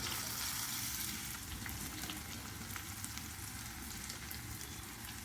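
Grated coconut and black pepper fry in a pan, giving a close, dense, even sizzle that holds steady throughout with faint scattered crackles and no voices.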